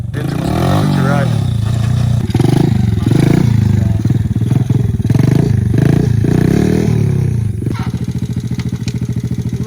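An ATC 90 three-wheeler's small engine runs loudly up close, rising and falling in revs with rattling clatter, while voices talk over it.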